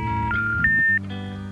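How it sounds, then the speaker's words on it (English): Electronic telephone tones on a line being cut off: a steady sequence of beeps that shifts pitch partway through, clear and alone. "I think that's my phone being cut off now."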